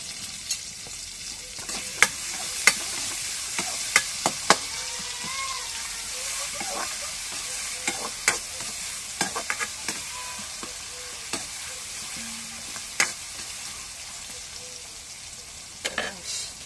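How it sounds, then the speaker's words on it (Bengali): Chopped onion and green chili fry in hot oil with garlic for lentil dal, a steady close sizzle broken by frequent sharp stirring scrapes and clacks of a utensil in the pan. "এখন পেঁয়াজ মরিচ ভাজা হয়ে"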